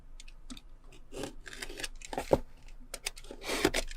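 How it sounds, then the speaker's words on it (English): A blade cuts through the packaging seal on a Garmin Quatix 7 watch box in a few short, close snips and scratchy rubs, with quiet gaps between strokes. "there is a seal, so I need to cut my way in"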